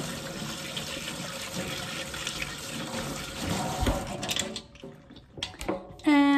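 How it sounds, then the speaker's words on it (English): Tap water runs steadily into a sink while oil paint brushes are rinsed under the stream, a continuous close splashing rush that turns briefly choppy and clattery near the end. "you put it in your sink, and basically what you're doing is running the water on, and you can go like that over your brushes"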